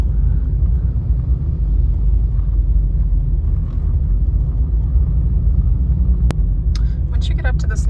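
Street traffic in Dili, Timor-Leste rolls on as a steady, loud low rumble of vehicle engines and road noise, with a sharp click and a few faint high chirps near the end.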